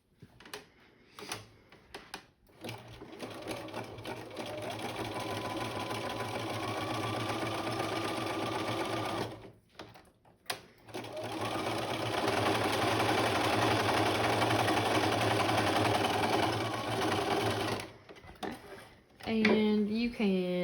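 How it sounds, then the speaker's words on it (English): A home sewing machine runs long zigzag stitches over a curved princess-seam allowance, a loud steady motor whir broken by two brief pauses and stopping near the end, with no talking. "So I'm gonna zigzag these together."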